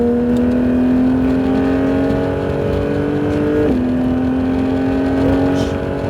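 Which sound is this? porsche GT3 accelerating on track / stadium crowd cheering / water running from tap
porsche GT3 accelerating on track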